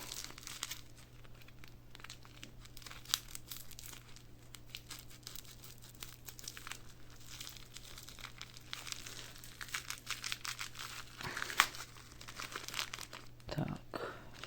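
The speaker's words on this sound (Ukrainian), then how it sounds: "Перша розпаковочка, перший конвертик." Close, crinkly rustling and tearing of a padded envelope of coins being opened, in irregular bursts with brief pauses.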